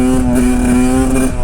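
A cheap road-legal 125cc two-stroke motorcycle holds a loud, steady buzzing rev in third gear while riding a wheelie, close to the microphone and running without a break.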